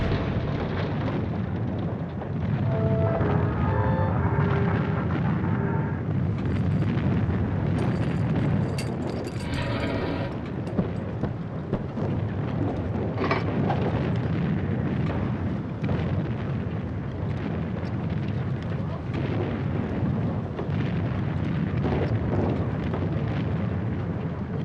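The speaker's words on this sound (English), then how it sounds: "it's our own guns shooting at us" First World War artillery guns fire and shells explode in a battle. The heavy, rumbling blasts keep up without pause for about twenty-five seconds, with bursts and booms layered over one another.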